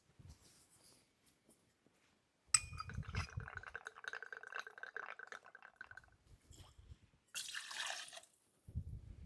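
Empress gin being poured into a measure for a gimlet cocktail, a steady liquid trickle with faint glassy clinks, close and fairly quiet, framed by brief handling noises.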